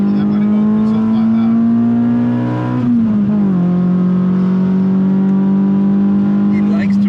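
Renault Clio Trophy engine revving loudly and steadily close by, its pitch holding, dipping briefly partway through, then settling into a sustained drone.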